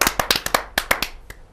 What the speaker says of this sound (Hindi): एक जोरदार तालियों से।